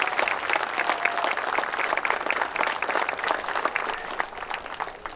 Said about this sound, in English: Round of applause for those folks